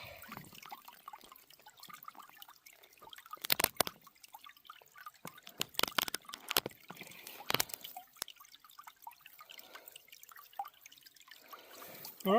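Water sloshes and trickles in a creek as a bait pump works along a crevice during gold prospecting, with scattered drips and gurgles and a few sharper suction splashes, fairly quiet and close.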